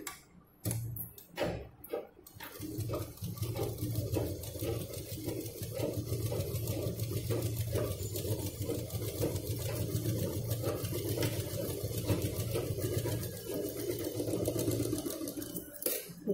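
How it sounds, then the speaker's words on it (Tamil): A sewing machine stitches through stacked layers of cloth, starting with a few short bursts and then running in a fast, steady, rhythmic whir close by, with no talking over it. "எல்லா கிளாத்தையும் ஒன்றா வச்சு இங்கேருந்து இங்கே வரைக்கும் ஒரு தையல்."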